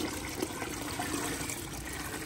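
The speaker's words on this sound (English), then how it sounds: "I'm going to slowly put more and more of this water into the bucket." Water poured into a bucket of aquarium fish makes a steady splashing trickle, close and continuous with small irregular bursts, and no voices heard.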